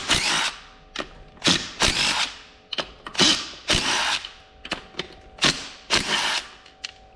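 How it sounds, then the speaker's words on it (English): Ratchet loosening gearbox oil pan bolts on a 2014 Hyundai Santa Fe six-speed automatic, quick bursts of close, crisp clicking repeated in short strokes with brief pauses, no talking. "So first things first, you need to remove these bolts."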